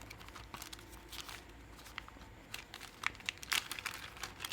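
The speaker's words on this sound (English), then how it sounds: "open your Ziploc bag here" A Ziploc plastic bag is opened and handled close by, giving a run of quiet, irregular crinkles and crackles that grow busier toward the end.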